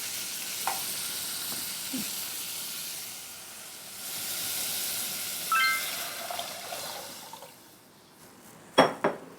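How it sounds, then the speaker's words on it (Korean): Water is poured into a pot of stir-fried beef for seaweed soup: a steady sizzle swells into a broad hissing rush, then settles, with a few sharp utensil clinks near the end. "이때 물을 부어주세요"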